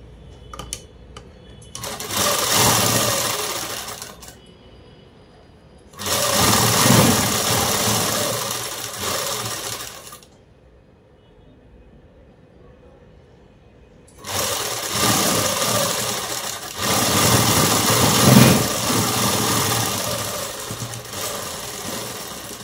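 A sewing machine stitches a straight seam on fabric in three loud, close bursts of rapid whirring, separated by short pauses of near silence.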